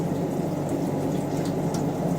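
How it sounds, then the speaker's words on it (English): Tap water flows into the tray of an air water machine during installation, a steady close rush of running, splashing liquid with no talk. "external tap water flowing into the tray, and from the tray it is dripping into the collection tank"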